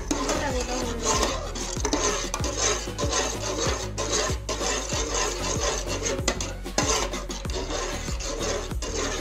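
Semolina being stirred in a pan for gulab jamun, a steady, close rasping scrape of a spatula across the pan with regular strokes that continue throughout.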